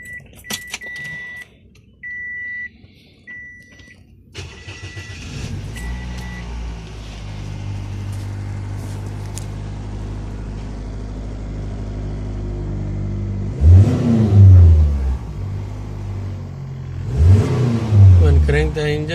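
A 2005 Toyota Echo with a cylinder misfire cranks and starts, settling into a rough idle, followed by two louder revving bursts near the end, after some faint tones and clicks at the start.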